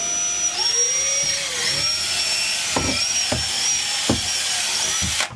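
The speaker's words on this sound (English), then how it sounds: "just drill a hole straight" A high-pitched power drill whines steadily, with a few sharp knocks and clunks as it bores straight through a boat bulkhead; close and fairly loud throughout.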